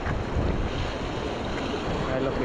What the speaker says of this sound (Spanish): Miren las olas, cómo suben en las piedras.